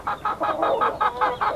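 Chickens at a rural home yard cluck in a steady, rhythmic series of about eight evenly spaced pulses, close and moderately loud, with no talking.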